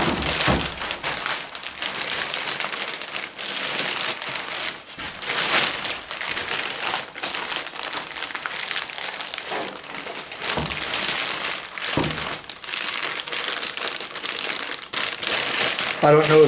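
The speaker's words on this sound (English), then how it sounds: "Obviously a very large bag compared to the container that you're putting in it. I'm going to fold this one up and around." A very large plastic bag is folded up and around a container. The crinkling and rustling is loud and close and runs steadily throughout, with brief dips, and there is no clear speech.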